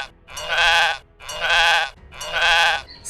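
A goat bleats three times, loud and close, with even pauses between the long wavering calls and no talk over them.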